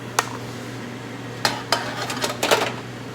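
A spoon stirs seasoned potato skins in a bowl, giving a few sharp clinks and scrapes against the side over a low steady hum, close and clear with no talking.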